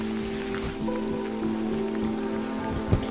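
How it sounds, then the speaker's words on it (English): Heavy rain pours steadily on a rainforest hike in Rwanda, a dense continuous hiss of drops hitting foliage and surfaces, close and loud throughout with no voices. "I was enjoying, however, the heavy rain that was falling on us."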